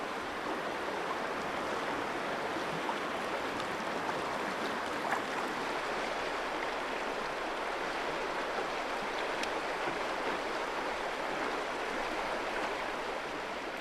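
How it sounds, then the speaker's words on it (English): Riffles and Class 1 rapids on the Namekagon River make a steady, even rushing of water that holds at one level throughout, fairly faint, with no voices. "the river drops suddenly, producing many riffles and Class 1 rapids"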